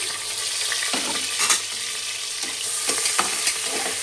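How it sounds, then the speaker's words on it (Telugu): Onions, green chillies and curry leaves sizzle in hot oil, a steady loud frying hiss broken by a few stirring scrapes of a utensil, close up with no talking. "నూనె వేడెక్కిన తర్వాత ఇందులోకి ఉల్లిపాయలు వేసుకోవాలండి."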